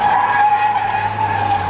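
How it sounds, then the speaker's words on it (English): A Porsche power slides at a speedway, its tires screeching in one loud, sustained skid heard up close with no talking. "Power slide that one good."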